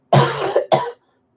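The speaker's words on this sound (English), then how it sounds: "Cough again." Two quick coughs in a row, close and loud, the first longer and harsher, the second shorter, followed by silence.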